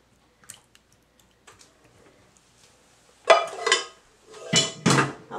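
Apple crisp filling spread around in a pie dish, with faint scattered scrapes early on, then louder wet squishing and scraping in two bursts near the end.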